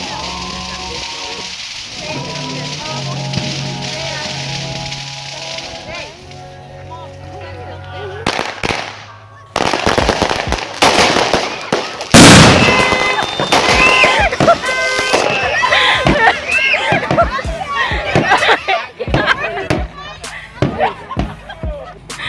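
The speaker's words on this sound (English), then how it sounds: "that was like pretty much like the first firework I was lighting off" Homemade fireworks go off in a run of loud, sharp cracks and bangs, one big burst followed by quick popping. Voices talk and shout over the quieter opening and between the blasts.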